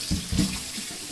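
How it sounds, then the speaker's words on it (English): Running tap water splashes steadily over potatoes being washed in a sink, close and fairly soft. "So I'm just knocking a bit soft there and washing my potatoes."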